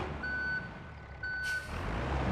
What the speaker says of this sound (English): All that beeping sounds.